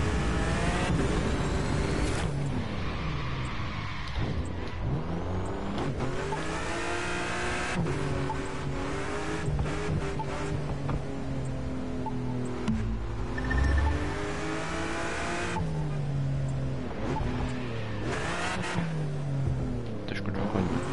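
A car in a driving video game, a Renault Megane RS or BMW M5, roars continuously with rising and falling engine revs and gear shifts, loud and close, no talk.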